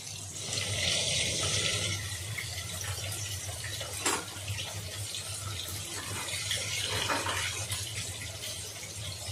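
Cut pointed gourd pieces are rinsed under running tap water, a steady close splash and stream with a couple of brief sharper splashes, no voices.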